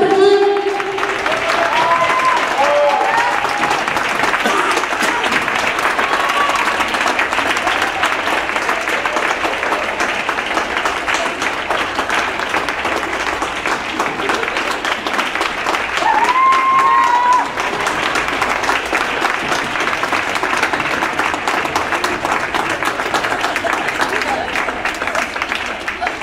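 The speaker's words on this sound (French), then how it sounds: "Vous pouvez les applaudir." Sustained applause from an audience at an artistic gala, dense and steady throughout with a few brief voices and cheers rising above the clapping.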